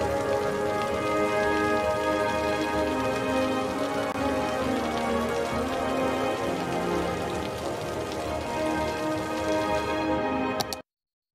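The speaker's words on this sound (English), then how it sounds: "This rain is kind of looking crazy on here." Steady rain in the Cities: Skylines city-building game, a dense continuous patter of drops on surfaces, loud and even, with faint musical tones underneath before it cuts off abruptly near the end.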